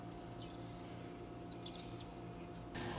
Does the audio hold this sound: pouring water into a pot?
yes